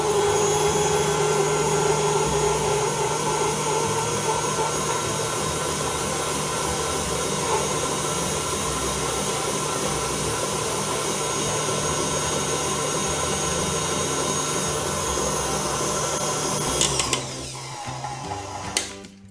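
A stand mixer with a balloon whisk beats chocolate cake batter at high speed, giving a loud, steady motor whine that runs unbroken for about seventeen seconds before it is switched off and a few clanks follow.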